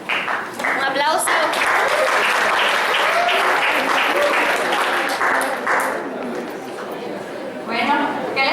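An audience at a talk on resilience in the face of adversity breaks into sustained, dense applause that swells early, holds for several seconds, then thins toward the end, with voices murmuring underneath.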